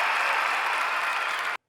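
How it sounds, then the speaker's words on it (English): Studio applause sound effect for a podcast's day-one prize winner, a steady wash of clapping from a crowd that runs at even loudness for about a second and a half before cutting off abruptly into silence. "Cue the applause."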